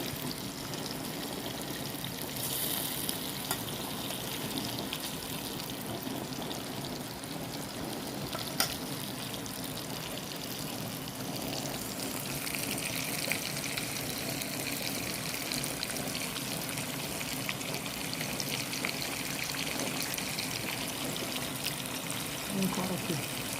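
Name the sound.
chicken frying in boiling oil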